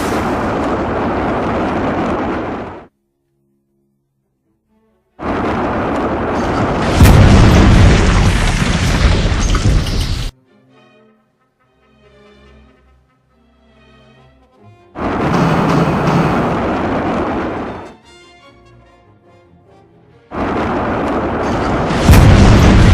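During the firing phase of a video game battle, bursts of heavy gunfire and booming explosions come in long loud blocks separated by short silences and quieter rumbling stretches.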